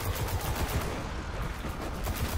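Enemy gunfire in the raid game Destiny, with continuous rapid automatic shots crackling loudly throughout, dense and close with no pauses.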